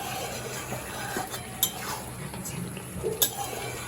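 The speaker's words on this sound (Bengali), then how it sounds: "চিনিটা মিশিয়ে নেব" A spoon stirs sugar into a pumpkin and prawn curry in a pan, with soft scraping and sizzling throughout and a couple of sharp clinks against the metal.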